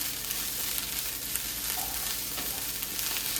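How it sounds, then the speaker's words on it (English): Smoked salmon fried rice frying in a pan, a dense, steady sizzle and crackle from start to end, close and moderately loud, with no voices. "I want to get it nice and fried up here."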